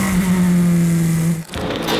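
A Formula 4 race car engine screams at high revs on a circuit, holding a steady strong note before cutting off abruptly, then briefly roaring back as the car brakes and downshifts.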